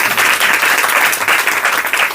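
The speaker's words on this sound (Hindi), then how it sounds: "ताली तो बजाओ।" Loud, close audience clapping at a spiritual class gathering, a dense continuous burst of many hands with slight swells in intensity throughout.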